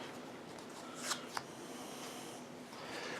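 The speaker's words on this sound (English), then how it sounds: "we're going to shuffle up the cards for the Titan there" Playing cards shuffled during a solo tabletop game of Vertium, a faint riffle with two quick, brief snaps near the middle, alone against a quiet background.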